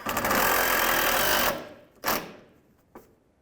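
Power driver running a 10mm bolt into a 2015-2019 Hyundai Sonata bumper area, a loud close whirring burst lasting over a second, then a short second burst and a brief final blip.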